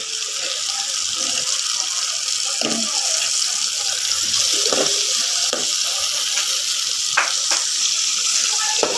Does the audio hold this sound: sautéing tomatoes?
yes